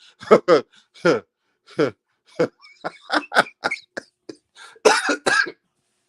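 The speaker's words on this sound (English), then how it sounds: "you're making me cough" A series of harsh, close coughs in uneven bursts, some short and some rasping, with brief gaps between them.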